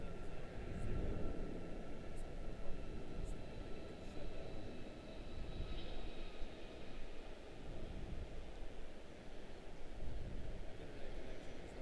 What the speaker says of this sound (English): Very smooth departure for the 7-3. And she's loaded down with folks. Using the full runway.